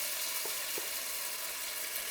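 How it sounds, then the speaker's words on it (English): Potato latkes fry in hot oil as 2-inch dollops in a pan, giving a steady quiet sizzle with a couple of faint soft taps early on and no talking. "So we are ready to start frying our latkes."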